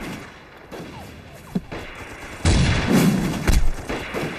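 Sniper rifle gunshots in an anti-Japanese war film: a dull thump, then a sudden loud crack that opens into sustained rumbling, with another sharp report a second later.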